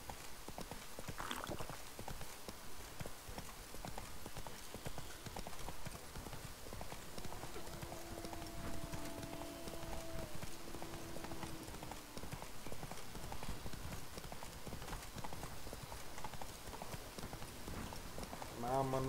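Horse galloping in The Witcher 3 video game, a rapid, continuous clip-clop of hooves running the whole way through, with a voice speaking briefly over it.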